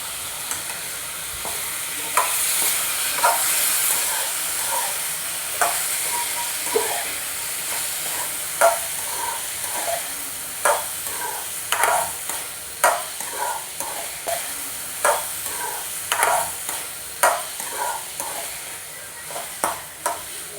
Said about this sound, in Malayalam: നന്നായി നമുക്ക് മിക്സ് ചെയ്യാം